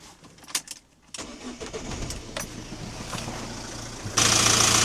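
A Ford Transit Connect engine, just fitted with a new alternator and drive belt, starts after a few clicks and settles into a steady idle, heard close up, with a louder broadband rush near the end.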